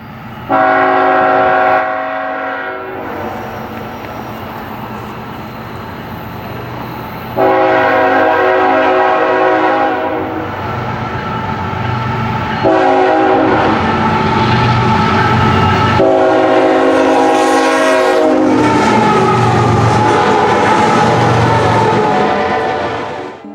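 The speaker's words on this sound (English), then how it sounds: "we additionally have the Tier 4 GE units, which have that distinctive quill in their horns" A Tier 4 GE locomotive sounds its quilled air horn in several loud sustained blasts of varying length, chord tones swelling and shifting, with a train's rumble and rail clatter beneath.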